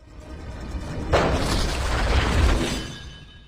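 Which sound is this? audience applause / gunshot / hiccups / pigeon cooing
gunshot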